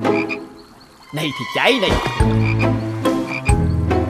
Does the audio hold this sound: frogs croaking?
yes